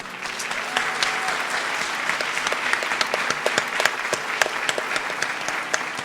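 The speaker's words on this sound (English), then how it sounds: "Let us give a resounding applause to our beloved Guru" Audience at a Bharatanatyam arangetram applauding their guru, dense sustained clapping from a crowd that stays fairly even throughout.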